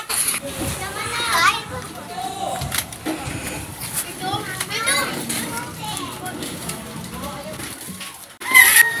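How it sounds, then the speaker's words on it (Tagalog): Children play outdoors, their voices chattering, calling and shrieking in a lively, continuous jumble at close to moderate distance. "Dito nga may nakita akong mga bata naglalaro."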